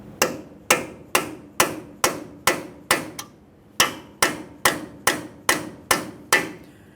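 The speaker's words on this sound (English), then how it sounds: "we'll continue on with a hammer and punch. The punch is going to go directly in the center of your axle shaft. We'll go ahead and lightly tap on this" A hammer strikes a punch in a steady rhythm, fourteen sharp metallic taps with one brief pause, driving the axle shaft out of a Ford F-150 wheel bearing hub; the taps are close and loud with no speech.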